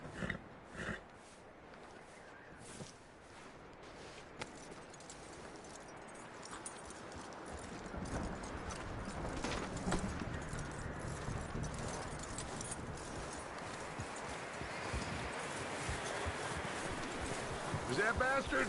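Horse hooves clip-clop steadily in Red Dead Redemption 2, a ridden horse moving at a walk amid in-game ambience, with soft voices and snorts nearby and the hoofbeats growing fuller toward the end.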